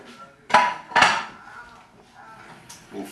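Wild rice and turkey salad with fruit and vegetables gets tossed in a bowl: two sharp, ringing clinks of utensils against the bowl stand out close by, followed by softer scraping and a faint knock at the end.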